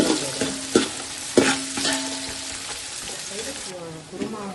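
Onions and green chilies fry in a pan of oil for a kurma, giving a close, steady sizzle broken by a few sharp stirring scrapes.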